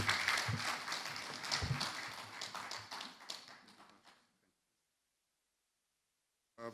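Applause from a conference audience after a presentation, steady clapping that thins and fades out around the middle, then silence, with a brief sound at the very end.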